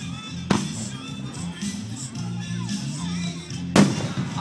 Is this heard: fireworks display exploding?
yes